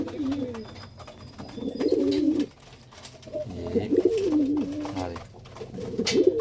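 Pigeons coo in repeated soft, throaty bursts close by, with a few quiet chirps and some background noise between the calls.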